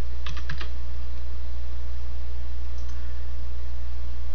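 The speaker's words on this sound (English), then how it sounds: "Type the description. Type the coupon amount." Keys clatter on a computer keyboard in a few quick bursts of clicks near the start, then a softer cluster later, over a constant low electrical hum.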